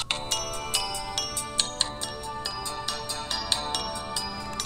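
A Quantum Leap Handlink replica prop gives off loud, crisp electronic beeps and chirping tones in a rapid, irregular rhythm, bright and clean, with no talking.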